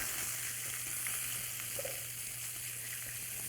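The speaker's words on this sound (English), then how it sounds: "I'm going to give it a quick saute," Shrimp sautéing in a hot pan, a steady close sizzle with a continuous hiss and faint crackle, with a low hum underneath and no voices.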